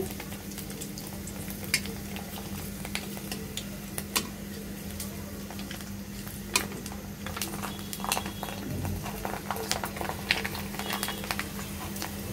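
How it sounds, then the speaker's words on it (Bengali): A homemade wheat-flour papad frying in hot oil in a wok over high heat, a steady crackling sizzle with scattered pops and light scraping of a utensil, close and alone. "দেখুন আমরা এখানে কড়াইতে তেল দিয়ে দিয়েছি। এখন একটি পাপড় দিয়ে দিচ্ছি।"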